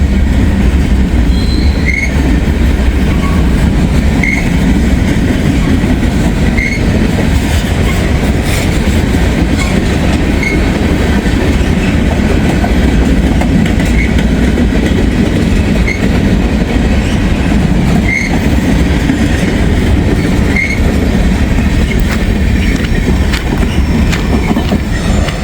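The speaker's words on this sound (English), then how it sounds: "We have one locomotive pulling all of this." Long freight train pulled by a single locomotive on the old B&O line rolls past close and loud, a continuous rumble of wagons with rhythmic wheel clicks and occasional high wheel squeals.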